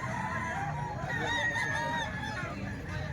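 A fighting rooster crows and clucks amid a noisy market-like background, moderately near, with faint voices murmuring around it.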